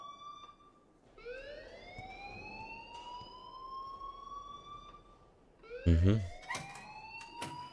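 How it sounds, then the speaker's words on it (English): An alarm in the video game Life is Strange wails with rising, repeating siren-like sweeps, moderately loud, joined near the end by a louder burst of clattering tones and a brief murmur of a voice. "please turn off that alarm"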